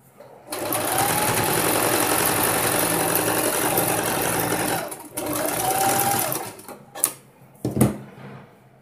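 A sewing machine stitching a blouse runs in a loud, steady whirring burst of about five seconds, pauses, then runs again briefly, followed by a few short mechanical clunks.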